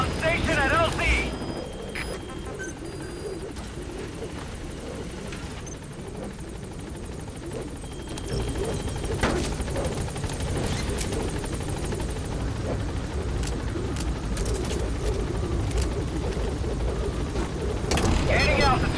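A support helicopter in Metal Gear Solid V: The Phantom Pain hovers at a landing zone, its rotor thrum steady and loud, growing heavier partway through as it gains power, with voices talking over it.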